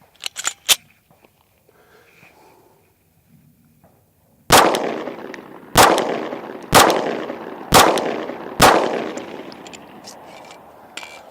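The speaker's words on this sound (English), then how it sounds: "at just about 15 yards here, we're gonna do 5 shots, then do the abuse" A pistol fitted with a Gideon Optics Granite red dot fires five shots at a target about 15 yards away. The reports are loud, sharp and close, spaced about a second apart, after a few faint handling clicks and a quiet stretch.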